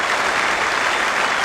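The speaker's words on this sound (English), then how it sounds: "Generous support from this big crowd at the WACA." A big cricket crowd at the WACA in Perth applauds in a steady, dense wash of clapping that stays loud and unbroken throughout, with no talking over it.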